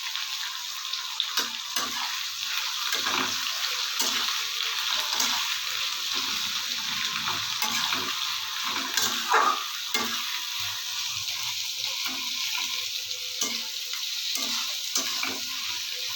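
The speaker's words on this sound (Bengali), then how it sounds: "পেঁয়াজটাকে একটু ভেজে নেব, ব্রাউন, যতক্ষণ না পেঁয়াজের রঙটা ব্রাউন হচ্ছে।" Onions frying in a pan until brown, before marinated goat meat goes in: a soft, continuous hiss with frequent scraping stirs and light utensil clicks, fairly quiet and close.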